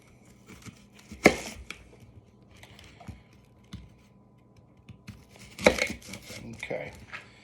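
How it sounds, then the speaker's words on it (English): A knife slices an apple into four pieces, two sharp crunching cuts through the fruit a few seconds apart, each with crisp crackle and tearing, close and clear amid quieter handling noises. "we are going to cut it into 4 slices, so you can just slice it down the middle"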